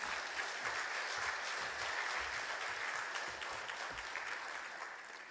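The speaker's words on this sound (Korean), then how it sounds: "큰 박수로 환영하도록 하겠습니다." A church congregation at a Sunday worship service claps to welcome the pastor, producing a dense, even wash of applause that holds steady and slowly fades toward the end, somewhat distant.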